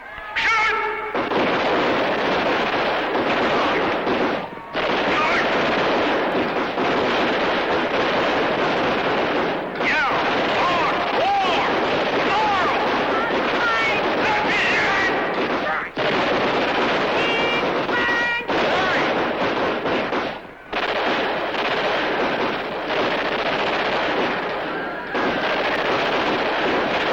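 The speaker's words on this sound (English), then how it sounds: "All right, start shooting. Shoot to kill." A loud, nearly continuous barrage of gunfire is aimed straight at the camera, pausing only briefly between long bursts, with voices partly buried beneath it.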